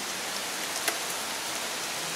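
Steady rain and wind hiss evenly outdoors at Thạnh Phú, a soft unbroken wash of noise with no talk.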